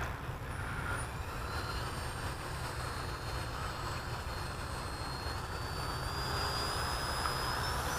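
A Freewing Stinger 64mm RC jet with an electric ducted fan spools up for takeoff outdoors, giving a steady rushing roar with a thin whine that rises in pitch. It sounds fairly close, with no talking.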